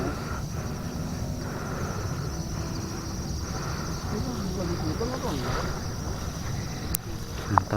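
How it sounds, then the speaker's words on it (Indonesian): Strong, steady wind rushes without a break across a campsite on Gunung Singa mountain, a constant roar close to the microphone, with faint distant voices underneath and a brief sharp click near the end. "Gede itu angin nih."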